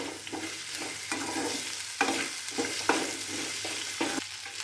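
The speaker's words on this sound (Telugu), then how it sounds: "ఇందులో మనం వేయించి పెట్టుకున్న బెండకాయ ఫ్రై వేసుకొని రెండు మిక్స్ చేసుకుందాం." Fried potato and okra tossed together in a hot pan, a continuous sizzle broken by regular scraping strokes of a spatula, close and moderately loud, with no one speaking.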